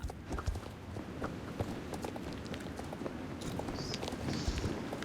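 Pony hooves clip-clopping at a steady walking pace in the Star Stable Online horse-riding game, a continuous soft rhythmic patter with no talk.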